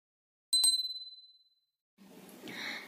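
A single bright notification bell ding rings out and fades over about a second, followed by faint rustling room noise.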